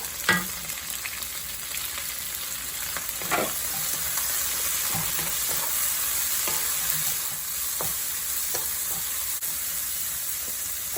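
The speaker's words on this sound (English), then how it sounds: "I'm gonna just add the stem of the kangkung" Kangkung (water spinach) stems stir-frying in a hot pan: a steady bright sizzle and hiss with scattered clicks of a utensil scraping and tossing, close and continuous throughout.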